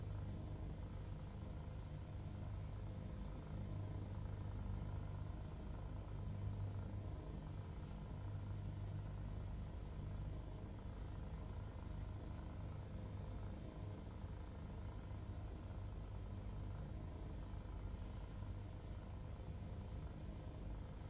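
Steady low rotor and turbine drone of an Airbus H160 private helicopter in flight in Microsoft Flight Simulator, heading to the Lake District; a continuous, even hum with no voices throughout.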